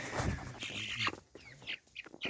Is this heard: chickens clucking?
yes